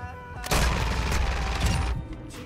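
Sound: gunfire in Call of Duty video game

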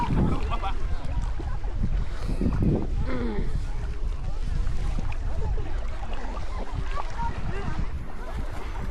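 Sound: strong wind blowing outdoors by water

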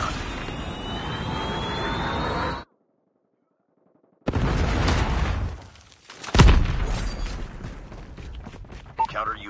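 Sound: Predator missile strike in Call of Duty Mobile video game

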